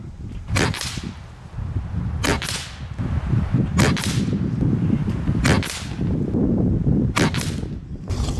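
Five sharp cracking shots from a JTS AirStryke regulated PCP air rifle firing Hades pellets, evenly spaced about every one and a half seconds outdoors, with wind rumbling underneath.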